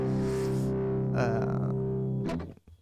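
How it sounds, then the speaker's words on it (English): A sustained, buzzy distorted guitar tone from a Guitar Rig software distortion pedal rings out, shifting once midway, then cuts off abruptly at the end. "But it's a good distortion."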